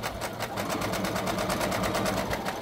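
A sewing machine stitches fabric for an arched face mask, its needle pulsing in a fast, even rhythm of close, steady mechanical chatter with no talking.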